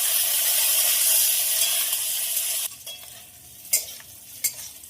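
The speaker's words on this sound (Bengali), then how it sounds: "ভাজার জন্য খুব ভালোভাবে নেড়ে দেবো।" Whole spices, garlic, chilli and cashews fry in a pan while being stirred: a loud, steady sizzle that suddenly drops away, then quieter frying broken by a few sharp scrapes and clinks of the spoon.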